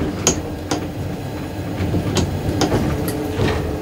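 A carnival train on the Čierny Hron Railway, a narrow-gauge line, rolls along with a steady rumble punctuated by sharp, irregular wheel clicks and clacks, with no voices over it.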